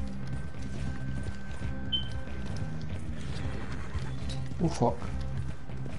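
A horse gallops in Red Dead Redemption 2 Online, its rhythmic hoofbeats carried over a steady game background. A man swears briefly partway through.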